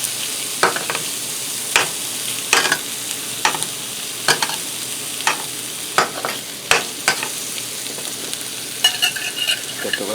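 Steaks and mushrooms sizzle in a pan while a utensil stirs and scrapes them, steady frying hiss broken by repeated sharp clinks and scrapes, close and clear with no talk.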